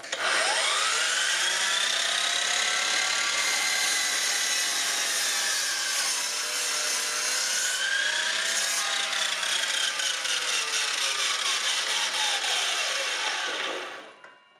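A miter saw cuts slowly through plywood, a loud sustained whine with shifting pitch as the blade moves through the wood, close and continuous, winding down at the end.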